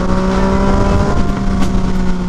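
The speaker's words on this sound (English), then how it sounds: "I just wish that there was more engine braking" Yamaha XSR900 motorcycle engine decelerating with little engine braking, a steady droning engine hum with a low harmonic buzz, close and fairly loud, continuous without speech.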